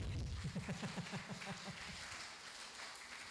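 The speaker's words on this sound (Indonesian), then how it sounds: "tepuk tangan buat Pak moderatornya nih." Applause from an audience at a university public lecture, a broad hiss of clapping with a few low voiced bursts in the first seconds, then fading to a softer steady patter.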